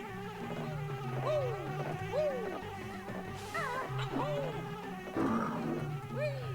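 Bees buzzing in the video game Banjo-Kazooie, a steady droning hum with repeated rising and falling whine sweeps as the insects circle, continuous and close, with no speech.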